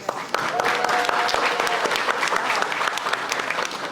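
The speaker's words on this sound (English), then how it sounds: "All right, let's give a round of applause for our authors." An audience at a book launch applauds the authors, the full clapping steady with scattered voices, cheers and a whistle over it.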